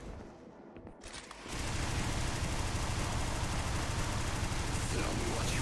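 Rocket launcher fire in the fast-paced shooter Xonotic, DeFrag speedrun mode, breaks in abruptly after a quiet start and becomes a dense, continuous barrage of loud blasts and roaring noise that lasts to the end.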